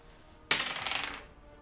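A die clatters onto a tabletop during a tabletop role-playing game, one sharp close impact followed by a quick rattling tumble that fades within about a second.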